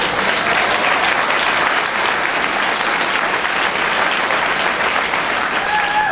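Steady, dense applause from an audience clapping during a speech about becoming a young attorney in California, sustained and even for the whole stretch with no pauses.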